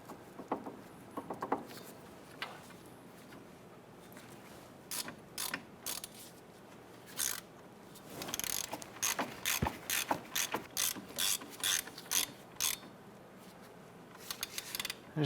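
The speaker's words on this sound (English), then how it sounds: "we're going to come back with our ratchet and we're going to go ahead and snug those down" Rapid bursts of ratchet clicking come up close as upper ball joint bolts are snugged down on a 1999–2004 Jeep Grand Cherokee, with short pauses between strokes and faster runs of clicks later on.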